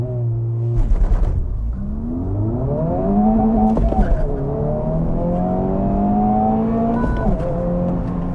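A 2023 Honda Civic Type R with a 315-horsepower 2-liter turbo engine and six-speed manual launching on a 0-60 run: loud rising engine roar climbing through the revs, with sharp breaks at two quick gear shifts before pulling hard again.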